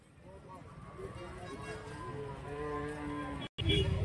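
Cattle and calves moo repeatedly at a busy calf market in Karimangalam, Dharmapuri, with long drawn-out calls rising and falling over background chatter and crowd noise, loud and close near the end.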